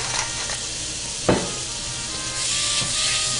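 Beef sizzles steadily in a hot pan while being tossed in garlic paste for lomo saltado, with a loud scrape or stir around the middle and a constant broadband frying hiss throughout.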